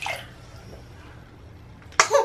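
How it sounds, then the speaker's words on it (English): Two short sneezes from a baby, one at the start and a louder one at the end, with quiet room sound between. "She sneezes like her daddy."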